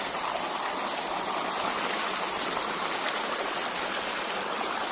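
Borewell water flowing strongly along a farm irrigation channel toward the fields, a continuous, dense close rushing with no pauses or other sounds.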